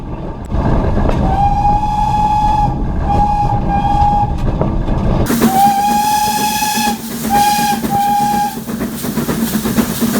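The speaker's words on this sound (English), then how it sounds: "I asked the driver instructor if I could have a go at blowing the whistle" BR Class 9F steam locomotive whistle blown from the footplate in several long and short loud blasts over the rumble and clatter of the moving train, heard close up.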